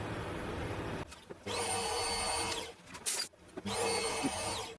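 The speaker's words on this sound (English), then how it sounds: "do something about drilling a hole in this" An Australian-made power drill whines steadily in two long bursts with a short break between, grinding into aluminium close up.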